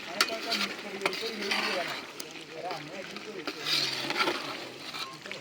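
Potatoes for aloo dum stirred and frying in a pan, a soft ongoing sizzle with scraping stir strokes under frequent nearby talk.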